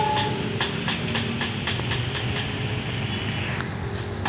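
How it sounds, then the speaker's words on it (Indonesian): A locomotive train passes over an elevated track above residential houses, its loud rumble joined by a rhythmic clickety-clack of wheels on rail joints that repeats steadily throughout, close and with no talking. "Lokomotif ini melintas di atas rumah warga,"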